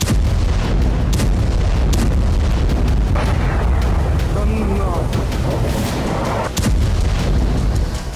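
Ballistic missile strikes on a battlefield in war footage, a dense loud roar of blasts and rumbling booms with sharp impacts, heavy and continuous, with voices mixed in.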